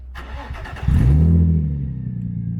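A car engine with its exhaust loosened revs up loudly with a rough, raspy exhaust note after a brief low idle, then settles into a steady rumble.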